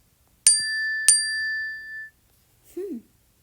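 Apple iPhone 'Glass' alert tone: two crisp, glassy chime strikes in quick succession, each ringing out with a long clear decay, followed by a brief murmur from a voice.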